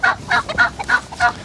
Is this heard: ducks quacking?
yes